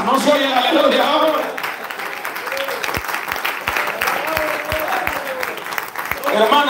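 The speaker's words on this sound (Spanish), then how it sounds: "qué aplausos más raquíticos esos" Thin, scattered applause from a church congregation during a sermon, a handful of sparse claps and a few distinct slaps between stretches of a preacher's voice.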